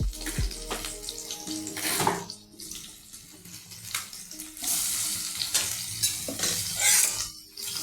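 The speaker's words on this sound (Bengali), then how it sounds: "আলুগুলি ভাজা হচ্ছে।" Potatoes frying in hot oil in a pan along with a bay leaf while making crab and potato curry, a steady sizzle with stirring and clinking utensil sounds, close up and with no talking.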